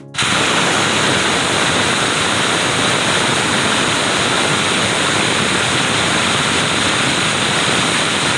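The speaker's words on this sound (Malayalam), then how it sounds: "ഈ വെള്ളം ഇവിടുന്ന് ഒലിച്ചു പോണ വെള്ളമാണ് നേരത്തെ താഴെ കാണിച്ചത്." Water runs down from higher ground in a steady, loud, continuous rush of broadband noise, close by and uninterrupted, with no voices.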